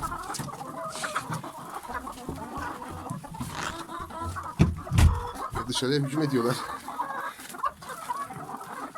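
Laying hens cluck and squawk loudly at close range in a coop, with someone talking over the birds throughout.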